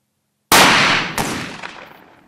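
Two loud, close shotgun blasts from an ELOS Traqueur 12-76 semi-automatic, the second following about two-thirds of a second after the first, both trailing off in a long echoing decay.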